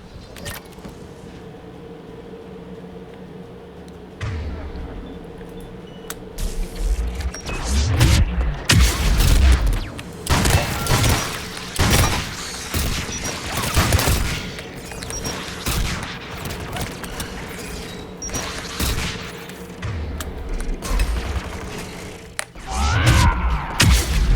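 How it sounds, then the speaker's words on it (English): Anti-aircraft guns firing in the Mass Effect video game, a long run of heavy booming volleys and rapid shots over a low steady hum, starting after a quiet opening and staying loud to the end. "AA guns ahead of us."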